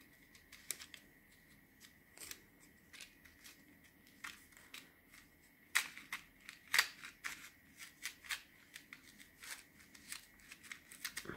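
Scissors snipping open a package, with a series of faint, sharp cuts and crinkly rustles spread unevenly and close by, no talking.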